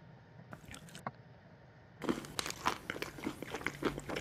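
Candy is crunched and bitten close to the mic in an ASMR eating video, starting with a few quiet crunches, then a dense run of sharp, loud crisp bites and chewing.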